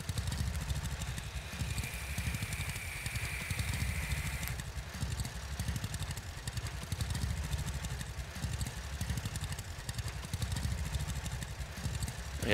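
A tractor in the farming game Farmers Dynasty reverses with a plow attached, giving a continuous low engine rumble that shifts slightly partway through, with no talking.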